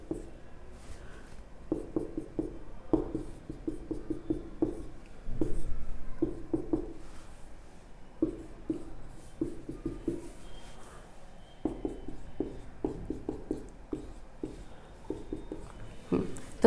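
A pen scratches across paper, writing out a maths condition during a calculus lesson, in quick bursts of short strokes separated by brief pauses, close and fairly quiet.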